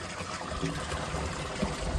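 Water flowing from a pipe into a basin at a village tank, a continuous close splashing trickle holding steady for a couple of seconds with no voices.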